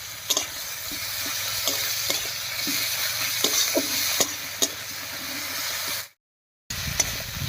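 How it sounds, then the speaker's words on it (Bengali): Ginger and garlic paste sizzles and fries in a pan with softened tomato, a steady hiss broken by scraping stirs, with a brief silent gap near the end. "প্রথমে দিয়ে দিচ্ছি আদা আর রসুন বাটা"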